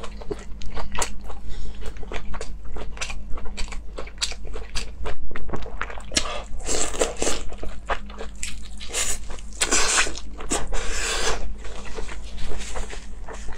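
Someone eats crunchy food close to the microphone, with a steady run of loud, sharp bites and crackling chews repeating through a quiet room.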